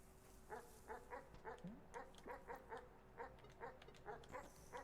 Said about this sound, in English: Dumb dog. It just wants to sit down on your lap.